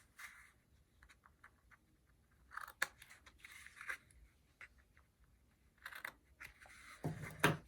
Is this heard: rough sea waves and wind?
no